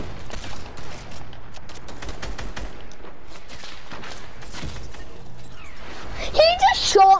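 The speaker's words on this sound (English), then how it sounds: "He just shot me through a wall." Video game gunfire: scattered sharp shots and bursts crack throughout at moderate level, with a player talking over them and a louder flurry near the end.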